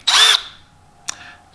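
Milwaukee M12 Fuel 4-in-1 light-duty drill and driver: one short, loud high-pitched whir that fades out, then a brief faint second burst, with no voices.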